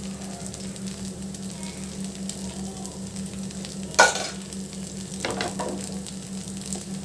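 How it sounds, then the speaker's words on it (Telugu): A masala dosa roasts on a hot pan with a steady close crackle and sizzle, broken by one sharp scraping clatter and a softer burst of sizzling soon after, against a low hum and with no talk. "ఇప్పుడు మనం బాగా బ్రౌన్ అయ్యేటట్టు కాల్చుకుందామండి దోశని"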